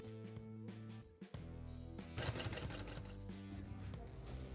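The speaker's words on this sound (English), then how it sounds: "Once the pieces are cut out and sewn with foam on them, they get sewn together." An industrial sewing machine stitches foam-backed car seat cover pieces together, running in steady continuous bursts with a brief pause partway through, loud and close with no talk.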